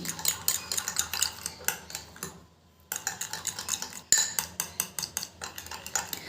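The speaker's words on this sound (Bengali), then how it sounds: "এবার আমি লেবুর রসটা ভালো করে এই ক্যাস্টর অয়েলের সাথে কিন্তু মিশিয়ে নিচ্ছি।" A spoon stirs lemon juice into castor oil in a small container, making rapid, rhythmic clinking and scraping strokes close by, with a brief pause midway before the mixing resumes.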